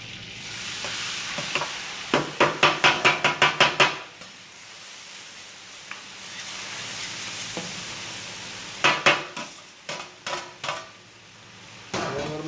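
Onions hitting melted fat in a large pot for a big batch of vegetable bulgur pilaf, a steady sizzle under bursts of loud, rhythmic metal scraping and stirring clatter near the start and again toward the end.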